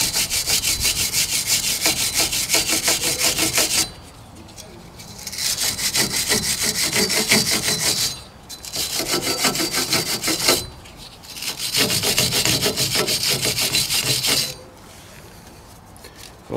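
Abrasive scraping of rust from the seized brake hub of a KIA Ceed during a brake disc replacement, four long loud rasping bursts separated by short pauses, close up with no talking.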